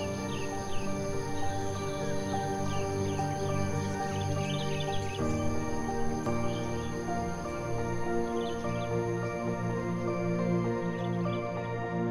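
Wild songbirds in Indonesia sing in a dense, layered chorus of sustained trills and whistles that continues unbroken, full and fairly close.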